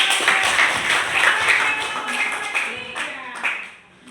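Classroom audience of students claps after a presentation, a short burst of scattered, uneven applause that fades near the end, with faint voices mixed in.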